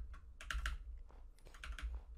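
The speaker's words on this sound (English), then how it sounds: "So much clicking." Rapid, uneven bursts of computer keyboard clicking during a Minecraft game, close and fairly quiet, with no talking over it.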